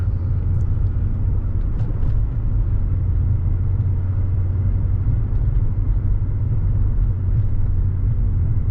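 A Mercedes AMG E55 Kompressor cruises on the road toward Brighton, heard from inside as a steady, loud low engine and road rumble with no voices.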